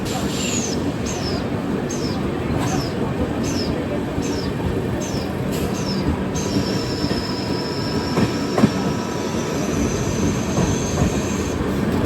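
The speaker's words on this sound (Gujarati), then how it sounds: "આ ટ્રેનની અત્યારે આપણી સ્પીડ પકડી છે" The 22656 Hazrat Nizamuddin–Ernakulam Superfast Express runs fast between Vadodara and Vapi with a constant rumbling roar, interrupted early by a series of rhythmic high squeals from the wheels.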